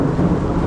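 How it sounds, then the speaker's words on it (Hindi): Deep, steady thunder rolls close and loud over a park in Lansdowne, Uttarakhand, during the monsoon, a continuous low rumble with no voices. "सुन लो बादल गरज रहे हैं भयंकर"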